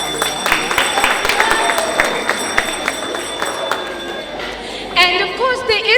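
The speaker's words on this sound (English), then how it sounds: "a big, big round of applause" An audience at a foundation's International Women's Day 2020 event claps in a moderate, ragged patter, with a voice speaking over it near the end.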